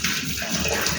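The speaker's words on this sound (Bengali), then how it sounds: "আপনি বেসিনের ট্যাপটাকে অন করে রাখবেন, কেননা আপনি হট ওয়াটার বের করে দিচ্ছেন কাঁঠালের আটির ভিতর থেকে" Hot water from boiled jackfruit seeds pours into a sink basin while the tap runs, a loud, close, continuous gush and splash.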